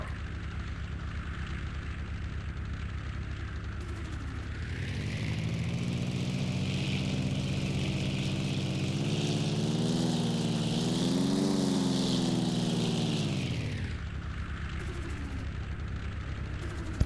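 Propeller airplane engine in the ARMA 2 video game, droning steadily, then swelling louder and rising in pitch for several seconds during a landing before dropping back to a lower, even hum.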